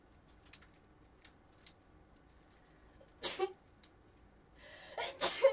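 A single sneeze bursts out near the middle of a quiet stretch during a card game, followed by a second sharp sneeze-like burst at the end, with faint soft clicks between.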